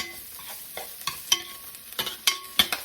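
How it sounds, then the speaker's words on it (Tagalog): Garlic sautéing in a small amount of oil in a pan, a faint steady sizzle broken by several sharp scraping and clinking stirs of a utensil, heard alone without talk. "Ngayon natin yung bawang muna. Gigisahin natin."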